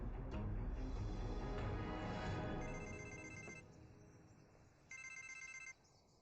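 Telephone ringing in repeated electronic trills, with bursts separated by pauses, fairly faint over a rustling background.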